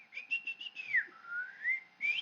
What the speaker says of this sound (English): It almost sounds like a whistle, right?